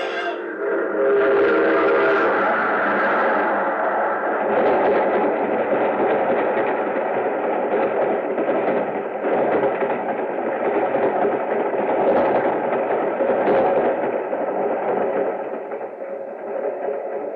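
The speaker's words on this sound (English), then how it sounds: "There's a train coming." A loud, steady rumbling roar of a train with a sustained whistle-like tone, continuous and close, swelling slightly throughout.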